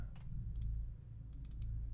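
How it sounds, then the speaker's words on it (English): Letters being typed on a keyboard in the video game Light In The Dark: a handful of quick, light clicks come in short bursts over a low steady hum. "Oh, I'm not. I'm typing."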